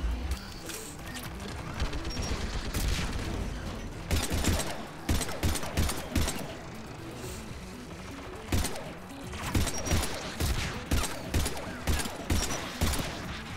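A turret fires in Mass Effect, sustained bursts of rapid loud gunfire in repeated volleys with short pauses between them, close and dominant throughout.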